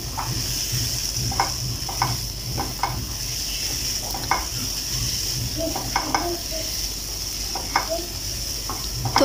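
Rice and salted boiled chickpeas frying in a pan for a chickpea biryani, a steady close sizzle with repeated scraping and knocking of a stirring spoon against the pan in an irregular rhythm.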